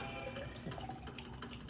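Hot water runs into a container for a baking soda volcano experiment, a close, steady faucet-like stream with small splashes and no speech.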